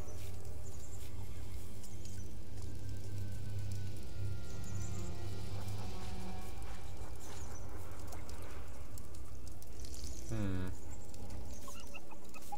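Chickens cluck and murmur in the Pillars of the Earth video game, a dense, steady farmyard bed of fowl chatter with a louder rising squawk near the end, no talking.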